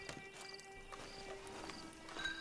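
Horse hooves clip-clopping in the Western video game Red Dead Redemption 2, faint and fairly distant, with irregular soft knocks over a steady low ambient hum.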